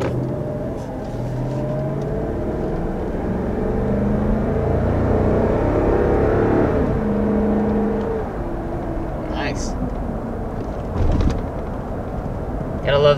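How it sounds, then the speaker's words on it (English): The 5.7-liter V8 of a 2021 Lexus LX 570 rumbles and revs steadily nearby, heard under a person talking throughout. "Gotta love the sound of a classic V8 engine"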